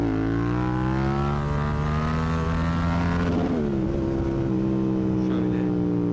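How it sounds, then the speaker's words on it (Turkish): A Yamaha MT-07 motorcycle in second gear revs hard into a wheelie. The loud, close engine note climbs steadily for about three seconds, then dips sharply and settles into a lower, rougher drone. "Motor vites 2'de gazla geliyor bu arada tekere."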